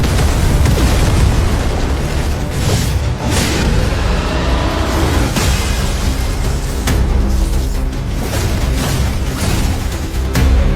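A loud, continuous roaring blast with repeated booming bursts rumbles on without pause, heavy and close.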